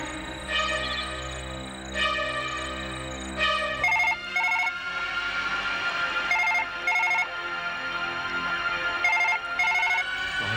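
A phone ringtone plays alone, a repeating electronic melody with bursts of bright beeping tones recurring every couple of seconds.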